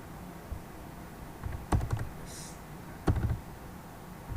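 Someone types a SQL command on a computer keyboard, producing a few quiet, scattered clusters of keystroke taps against a faint background hiss.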